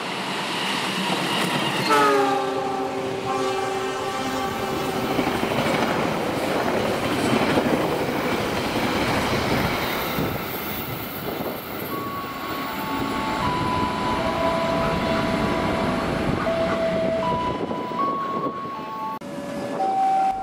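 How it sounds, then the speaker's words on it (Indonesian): A Pangandaran passenger train in Indonesia runs past with a loud continuous rumble and rattle of its cars. A horn sounds near the start, and faint tonal whines rise and fall later on. "Kemudian berjalan langsung kereta api Pangandaran."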